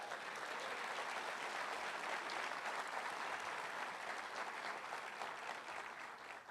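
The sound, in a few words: applause in church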